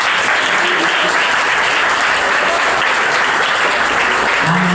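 Loud, sustained applause from a crowd, dense clapping that fills the whole stretch without pause.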